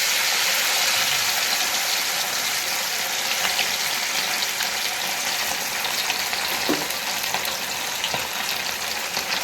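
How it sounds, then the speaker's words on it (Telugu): Fish deep-frying in hot oil on a stove, a steady dense sizzle and crackle with occasional louder pops, continuous and close, no talk over it. "ఇప్పుడు ఈ చేపలు ఇలా నూనెలో వేసుకోవాలండి."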